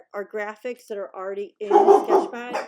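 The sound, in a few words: dogs barking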